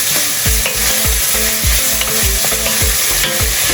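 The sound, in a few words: onion frying in a pan over medium heat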